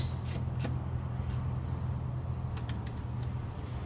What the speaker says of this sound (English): I'm going to go ahead and go back through all of these and finish tightening them down